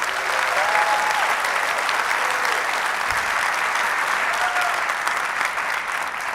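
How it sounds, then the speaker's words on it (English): Loud, sustained applause from the audience at a PechaKucha Night event in Santa Fe, a dense wash of clapping with faint crowd cheers mixed in, steady throughout. "So let's give them all a round of applause"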